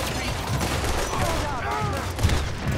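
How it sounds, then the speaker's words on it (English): Revolver gunfire in Red Dead Redemption 2, a dense run of overlapping shots amid a chaotic firefight, with a louder crack near the end. "I just gotta make headshots because revolver is all I got"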